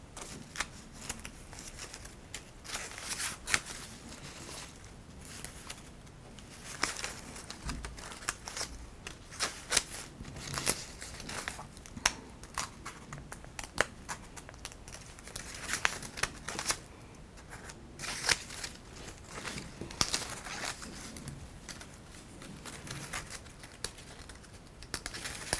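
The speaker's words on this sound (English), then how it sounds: "Insert my scissors into here and cut the fold open." Scissors snipping along the folds of a sheet of paper, a steady run of close, crisp little cuts and rustles repeating across the whole stretch without any talking.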